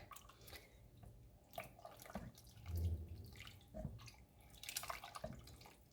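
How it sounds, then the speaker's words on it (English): Gentle stirring of lemons in water in a pot on the stove, with soft liquid sloshes and scattered small clinks and drips at close range, fairly quiet and without speech. "the sound of stirring lemons and water while waiting for water to heat up"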